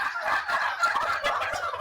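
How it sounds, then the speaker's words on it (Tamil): Turkeys gobble in a dense, rattling chorus, several birds overlapping continuously at moderate distance with no voices. "இதுல வான்கோழி இருக்குதுங்க"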